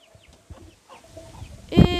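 Chickens cluck softly in a henhouse during spring cleaning, a few scattered low calls building to a louder, close squawk at the end.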